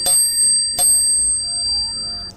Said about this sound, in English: this bell which looks aesthetically very pleasing and sounds very good as well